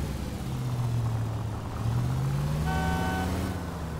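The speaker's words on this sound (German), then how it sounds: "Jetzt hört er mal auf zu hupen." Car horn in the video game L.A. Noire, a long sustained honk that holds and slowly rises in pitch under steady traffic and engine noise, with a second, higher horn tone joining briefly near the end.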